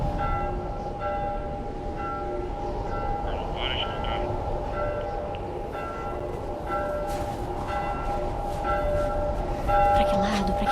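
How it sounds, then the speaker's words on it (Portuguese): A deafening bell in The Last of Us rings over and over through a blizzard, with repeated tonal strikes layered over roaring wind noise while someone talks. "Esse sino ensurdecedor, não para de tocar."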